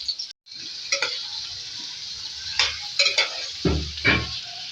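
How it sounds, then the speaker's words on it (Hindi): Marinated potato pieces coated in turmeric, chilli and salt sizzle steadily in a hot pan, with a utensil stirring and clinking against the metal at intervals throughout. "मसाला लगा के आलू रखा था हल्दी मिर्च नमक के साथ, इनको फ्राई करेंगे"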